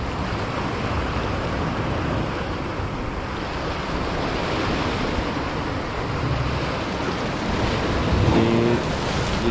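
Sea waves wash in a steady, broad roar with wind gusting across the microphone, a faint low tone near the end, and no voices heard.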